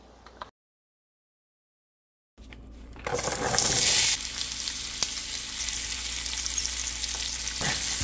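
Cut vegetables dropped into hot oil in a pan for a vegetable masala curry, a loud hiss bursting up after a silent gap and settling into a steady crackling sizzle with occasional stirring clinks.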